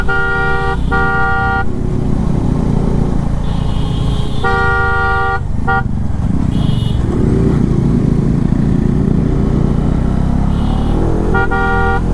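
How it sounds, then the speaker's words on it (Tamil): A Bajaj Dominar 400 motorcycle horn honks in several short bursts over its constant roaring engine on a night hill road, with tones cutting in and out near and loud. "நிறையா பிண்டுக்கு ஹார்ன் அடிச்சுனே வரேன்."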